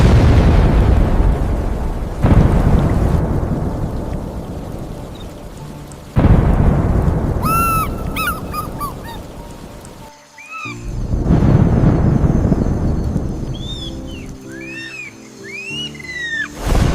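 A heavy thunderstorm booms over the Amazon rainforest canopy, with deep rolling thunder cracks and a steady roar of rain, loud and close, while bird calls chirp intermittently through the downpour.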